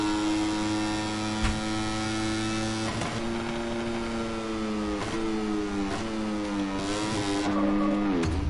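Moto3 racing motorcycle on a qualifying lap, a high-pitched engine whine rising through the revs with several sharp gear shifts, steady and close, no voices over it.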